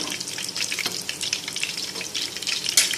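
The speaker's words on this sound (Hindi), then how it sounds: "बिल्कुल लो फ्लेम पे फ्राई कर रहे हैं।" Beef muthiya kebabs frying in oil over a low flame, a steady soft crackling sizzle with faint bubbling, close and continuous.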